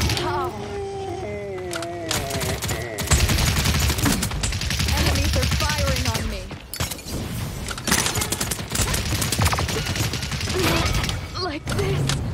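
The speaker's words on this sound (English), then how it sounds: "Enemies are firing on me." Enemy gunfire in the hero shooter Paladins, with bursts of rapid shots and thuds running through the whole stretch, mixed under game music and effects at steady loudness.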